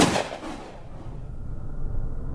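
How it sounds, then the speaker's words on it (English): A single gunshot effect from a horror story podcast cracks at the very start, then a long rumbling tail and low reverberation fade out over the next two seconds, with no voice. "a gunshot rang out"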